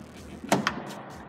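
A 2015 Toyota Tundra Limited door opens with a quick latch click and a second short clunk, close and fairly quiet, followed by soft faint rattles.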